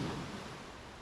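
Broadband rushing surf fills the whole moment, a steady wash of rough sea water with seaweed, no voices, loud and close, off the Caribbean coast at Playa del Carmen, Mexico.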